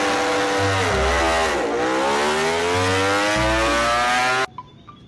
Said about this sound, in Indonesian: Ternyata ini motor balap.